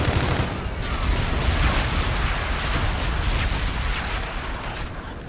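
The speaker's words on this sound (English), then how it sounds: "Enemy bombardment incoming." Enemy bombardment in Infinite Warfare: a continuous roar of explosions and gunfire, loud and dense throughout, with no clear gaps between impacts.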